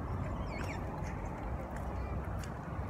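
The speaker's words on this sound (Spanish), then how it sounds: "¿Viste los patos, verdad?" Ducks at a park quacking faintly in the background amid steady outdoor noise and low rumble, with a few brief calls standing out.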